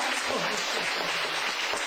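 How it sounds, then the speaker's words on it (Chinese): Audience applause at a lecture gathering, dense continuous clapping from many hands filling the room, steady and fairly loud throughout with no talk. "我们再掌声大一点好不好"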